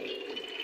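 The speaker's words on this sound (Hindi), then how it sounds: "हमने जो चावलों का पानी रिमूव किया था वो इसके अंदर ऐड करने लगे हैं" Water drained from soaked rice being poured into a pot of hot ghee for daal chawal, giving a brief, steady splashing pour with no voices.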